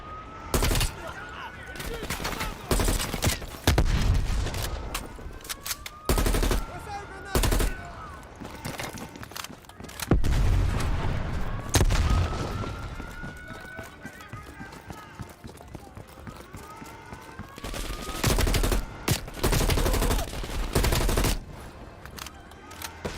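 Gunfire in Call of Duty Black Ops Cold War: repeated loud bursts of automatic fire and single shots, close and heavy, with short gaps between volleys and a voice speaking now and then.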